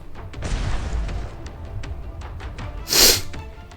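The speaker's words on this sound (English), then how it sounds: "The explosion is as loud as a thunderclap." A booming explosion in the video game Arknights: a deep low rumble swelling and fading, then a sharp bright burst near the end, loud and alone without speech.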